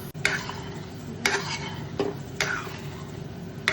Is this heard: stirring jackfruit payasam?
yes